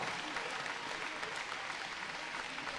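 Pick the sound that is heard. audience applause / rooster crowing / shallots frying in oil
audience applause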